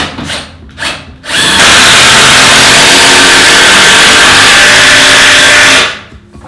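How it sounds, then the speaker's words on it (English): A power drill drives screws through timber into a kitchen unit while a wooden worktop is being built: two short bursts, then a loud, steady whine held for about four and a half seconds before it stops. "And then drill them in."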